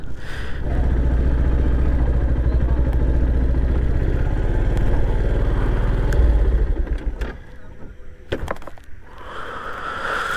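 A parked motorcycle's engine idles close by at a village roadside in the East Kolkata wetlands, a steady low rumble for about six seconds before it cuts out, leaving quieter background sounds and a few faint clicks.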